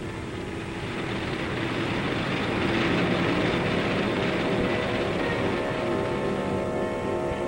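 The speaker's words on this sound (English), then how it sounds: "Out in the dispersals, you hear them winding up those engines." Bomber engines wind up out at the dispersal area, a broad steady roar that swells slightly after the first second and holds loud and continuous, with no voices.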